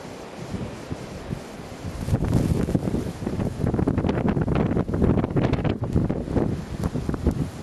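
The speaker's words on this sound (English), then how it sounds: "Very windy, and all the snow fell." Strong blizzard wind blows snow outdoors as a steady roaring rush that swells louder partway through, with gusty buffeting against the microphone and no talking.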